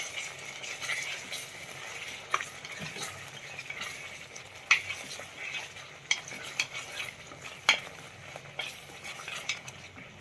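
Spices and red chili powder are stirred into a cooking gravy for a cashew paneer curry: a soft, low sizzle under intermittent spoon scrapes and clicks against the pan, quiet and close.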